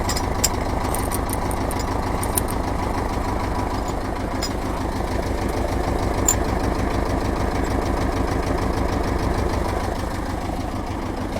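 A tractor engine idles during winter ploughing, a steady, close mid-pitched chugging with an even rapid pulse that holds throughout and has no talk over it.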